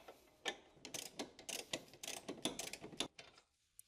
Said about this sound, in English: 17mm short socket and a telescopic ratcheting wrench to loosen the mounting bolt between the trailing arm and the knuckle.